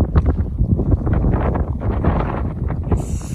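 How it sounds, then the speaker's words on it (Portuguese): A strong, cold wind blows across the Bolivian salt flat near Uyuni and buffets the microphone, a loud, steady roar that gusts throughout. "um vento danado."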